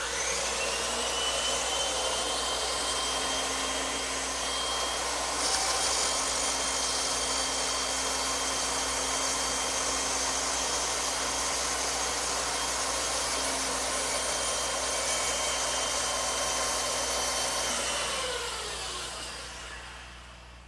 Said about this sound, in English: But ideally, it's nice to have a bandsaw like this one.